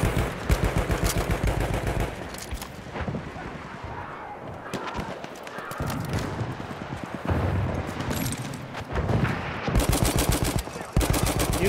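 A Lewis gun in Battlefield 1 fires long rattling automatic bursts, loud and close, with short pauses and distant battle noise between them.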